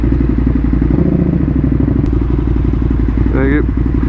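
Motorcycle engine running steadily on a bike dyno at a dyno day, with a Ducati Streetfighter V4 and KTM Superduke among the bikes present; a constant loud, rumbling drone fills the whole stretch and a brief rising whine comes near the end.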